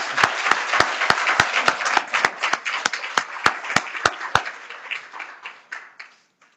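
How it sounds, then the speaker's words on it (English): A crowd at a volunteer appreciation luncheon claps together, steady applause with sharp individual claps standing out, gradually thinning and fading to silence near the end. "let's give them a round of applause"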